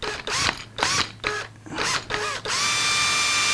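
A drill bores locating holes through a Martin 00 style acoustic guitar fretboard in about five short whirring bursts with brief pauses, ending in a steady run, close by.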